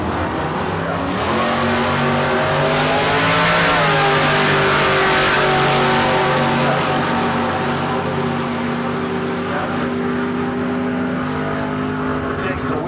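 A 2002 Chevrolet Camaro makes a drag racing run at a street car meet, its engine roaring steadily and loudly as it accelerates and rises in pitch, with a faint announcer voice beneath.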